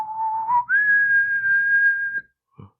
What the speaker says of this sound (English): His whistling is so good